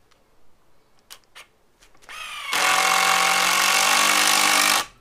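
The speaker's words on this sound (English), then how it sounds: "Pre-drill all the way, 50mm." A combi drill pre-drills a pilot hole through 18mm plywood: a few faint taps first, then a brief rising whine as the motor spins up into a loud, steady drilling drone for about two seconds that stops abruptly, with no talk.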